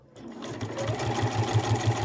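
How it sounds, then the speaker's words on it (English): A sewing machine stitches a fabric sewing machine cover, its needle running in a fast, steady mechanical rhythm of repeated thuds close by, without talk. "So I'll start sewing from the bottom up to the top"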